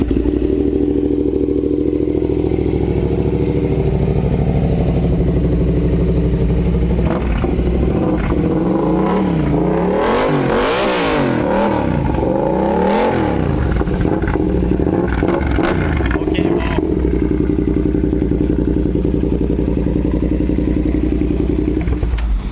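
A 650R motorcycle engine idles loudly and close, then revs up hard through a series of rising and falling throttle blips mid-way before settling back to a steady idle.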